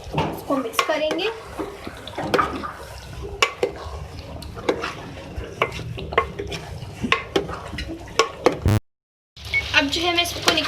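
Aloo, palak, cauliflower and pea curry being stirred after chopped coriander goes in, with repeated spoon scrapes and clinks against the pot over a soft sizzle and a brief silent gap.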